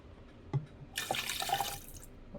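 Chicken broth is poured into the inner pot of a Ninja Foodi, a short quiet splash of liquid after a couple of faint drips, close by and alone.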